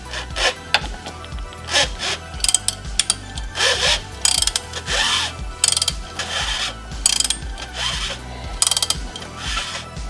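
A 32 mm wrench works with rapid ratchet clicks and metallic scraping to loosen the drain plug on a Renault EDC6 (Getrag 6DCT450) dual-clutch gearbox, loud and close, in rhythmic bursts.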